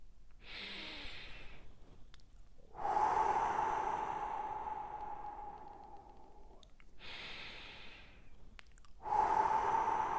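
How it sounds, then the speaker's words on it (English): Deep breathing during a guided breathing exercise, with slow, close breaths in and out: a sharp inhale, a long drawn exhale, then another inhale and the start of a further exhale. "we're going to start by taking 3 big deep breaths as usual"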